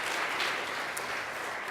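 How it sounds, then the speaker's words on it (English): A conference audience applauds for sponsors at an opening session: a dense, even patter of clapping from many hands, steady throughout with no voices over it. "If we can get a round of applause to our sponsors."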